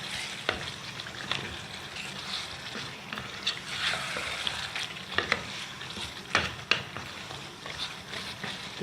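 Coriander-mint paste and green chilli paste being stirred into a sizzling pot for anarkali biryani, a continuous soft fry with scattered spoon scrapes and clicks throughout.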